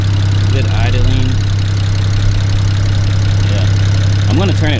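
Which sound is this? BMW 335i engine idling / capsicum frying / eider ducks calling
BMW 335i engine idling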